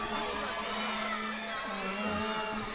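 An arena crowd at a Red Rock Wrestling match cheers for Kirk Aubé against Brody Steele, a dense, continuous wall of shouting and whooping that holds steady and loud throughout.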